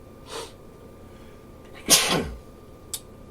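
A single loud sneeze from one person, with a brief softer intake before it and a small sniff afterward, in an otherwise quiet room.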